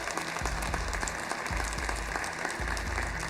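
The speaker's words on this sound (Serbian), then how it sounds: "Može aplauz." Steady applause from a television studio audience, dense continuous clapping at close range that holds evenly throughout without any voices over it.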